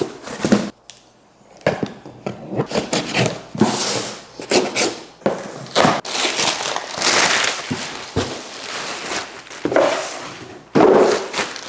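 An Amazon delivery package is unpacked by hand: loud, close crinkling and rustling of plastic wrapping and packaging, with sharp crackles and pauses between handling bursts.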